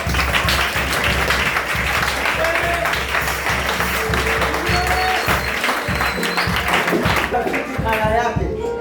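Steady, dense clapping fills a church congregation throughout, mixed with voices and some musical tones, with no break in the crowd noise.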